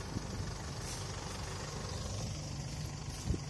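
A Yanmar tractor engine strains to pull a stuck Isuzu D-Max out of deep mud in a paddy field, a steady rough rumble with brief knocks and clunks.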